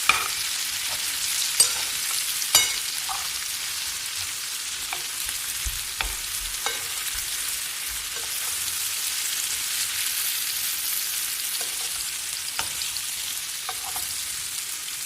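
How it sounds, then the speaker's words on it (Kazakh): Potatoes frying in a pan while being stirred, a soft continuous sizzle broken by scattered scraping clicks and taps from the utensil, with no voices. "Қуырып аласыздар бірінші картошкаларыңызды."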